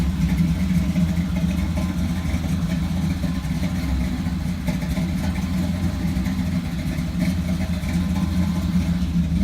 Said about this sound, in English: I'm sure he's just letting the engine warm up a little bit